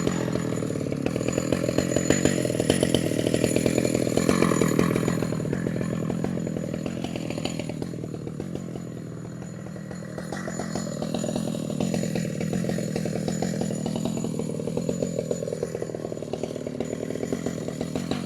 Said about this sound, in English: Let the saw idle.